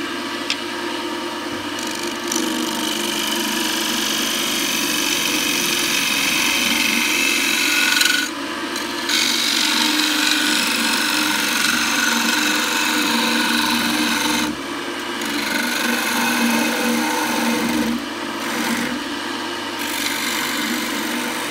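A lathe chisel cuts into a spinning live-edge wooden bowl, a loud continuous rasping scrape that drones on with brief dips where the tool lifts off the wood.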